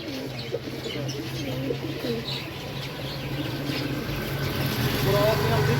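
A black desi golla pigeon with red eyes coos at a market stall on a busy road, with soft repeated cooing and chirps over steady traffic hum and background chatter.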